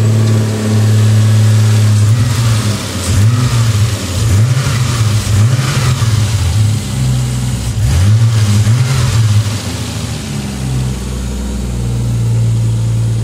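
A car engine on its very first start roars loudly and close by, revving repeatedly in rising and falling surges before settling into a steady idle.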